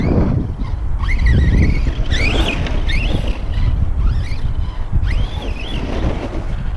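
Two 4S RC bashing trucks, a Kraton and an Outcast, drive outdoors with loud whining electric motors that rise and fall in pitch over steady wind noise, with no talking.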